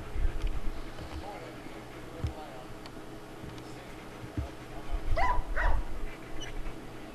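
Dog barking in short bursts during attack-command obedience training, fairly distant and faint against outdoor background, with a person talking nearby.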